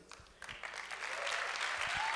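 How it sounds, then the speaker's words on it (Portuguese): Church congregation applauding during a worship service, clapping building from a few scattered claps into full, steady applause. "Aplaude forte ao Senhor"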